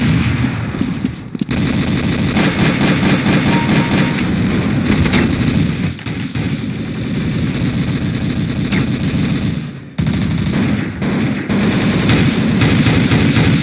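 Sustained automatic gunfire in Counter-Strike: Source, a dense, loud stream of close shots with only brief gaps, with heavier booms mixed in.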